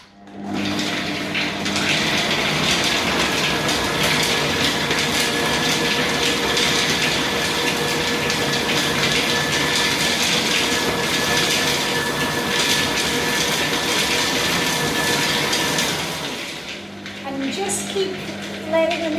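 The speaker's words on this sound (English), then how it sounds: "Okay, now I'm going to put on the machine. So if you've got little ears, delicate ears, turn away now." A food processor chopping oats and dried fruit runs as a loud, steady whirring grind for about fifteen seconds, close by, then cuts off into quieter handling sounds.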